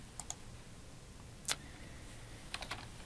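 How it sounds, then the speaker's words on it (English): A few quiet keystrokes on a computer keyboard while typing a command into MATLAB, scattered clicks in small bursts against a faint room hiss, with one slightly louder clack in the middle. "at the MATLAB command line, we can type edit audio to bin"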